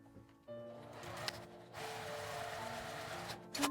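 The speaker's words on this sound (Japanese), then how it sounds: "表側だけ端ミシンをかけます。" A sewing machine runs steadily and close up, topstitching the right-side edge of a quilted lunch bag with a zipper, its motor whir and needle clatter sustained for a few seconds after a brief start.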